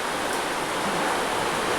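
Rainwater pouring through a leaking tin-sheet roof into a house, turning the floor to mud: a continuous dense rushing hiss like a stream, close and even throughout, with no talk.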